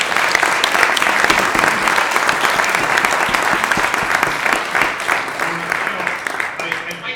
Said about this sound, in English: the people can make an applause for you